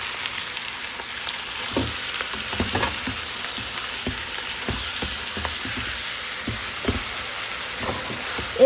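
Meat going into a pan of frying onions and potatoes with dried chillies, sizzling steadily while being stirred, with scattered scraping and clinking of a utensil throughout.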